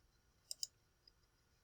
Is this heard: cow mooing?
no